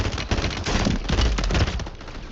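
Warzone 3 gunfire crackles in rapid, overlapping bursts that run almost continuously, loud and dense, with no voices over it.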